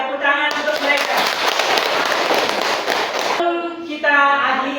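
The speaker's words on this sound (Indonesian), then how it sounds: "Tepuk tangan untuk mereka." Classroom clapping for a student group after a science lesson, a dense burst of many hands lasting a few seconds, with speech around it.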